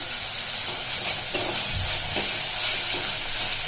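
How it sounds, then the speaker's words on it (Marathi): Chopped onion and tomato with crushed ginger are sautéed in a pan, making a continuous close sizzle with scraping stir strokes over the frying. "पण हा कांदा टोमॅटो छान फ्राय करून घेऊया एकत्र"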